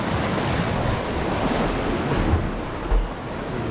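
Sea waves surge and break steadily at a shore fishing spot, a loud, continuous wash of surf with wind buffeting the microphone and one brief swell near the end; no one speaks.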